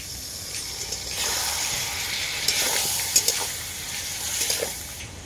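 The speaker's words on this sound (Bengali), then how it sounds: "অল্প একটু জল দিয়ে দেবো মশলাটা ভালো করে কষানোর জন্য" A spice paste of turmeric, chilli and black pepper powder is fried with a splash of water in a pan for a cauliflower curry, giving a loud continuous sizzling hiss with occasional stirring clinks.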